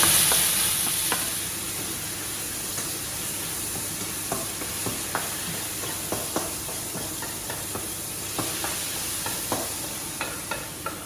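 Lardons sizzle steadily in a hot pan for Cantonese fried rice, with a constant frying hiss and scattered sharp crackles and pops throughout, close and moderately loud with no talking.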